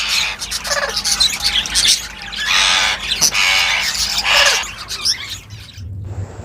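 Ringneck parakeets screech and squawk in loud, harsh bursts around a breeding box holding a nesting pair, the calls coming close and repeated in overlapping waves with brief gaps.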